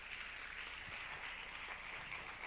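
Applause from an audience at a film event held at a Mexican university carries steadily for a couple of seconds. It is moderately faint and shows no clear individual claps.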